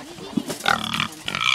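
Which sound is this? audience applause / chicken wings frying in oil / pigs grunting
pigs grunting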